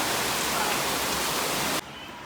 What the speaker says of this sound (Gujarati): મસ્ત એવો વરસાદ આવે છે